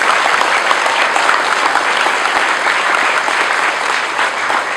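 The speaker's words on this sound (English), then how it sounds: "a round of applause" Dense, steady applause from a large audience at the SP Setia Foundation's Setia Caring School Programme launch, loud and sustained for several seconds with no voices over it.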